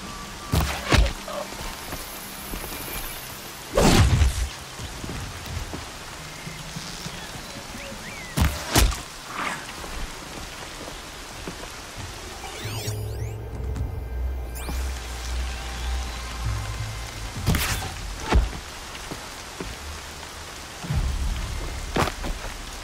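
Rain falls steadily in the video game Horizon Zero Dawn, a continuous wash broken by several loud thunder cracks and heavy low thuds.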